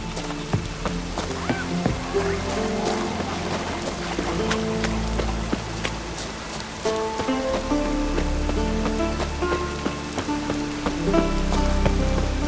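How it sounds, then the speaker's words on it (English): Steady heavy rain in The Witcher 3: Wild Hunt patters and splashes across surfaces, with a low music-like drone and scattered sharper drops throughout. "Raining fucking buckets."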